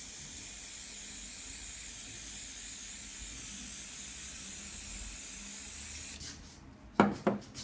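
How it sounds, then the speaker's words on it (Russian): A steady aerosol spray of silicone insulating spray hisses continuously for several seconds, then stops, followed by a couple of short sharp bursts of spray. "Специальный спрей изоляционный, силиконовый."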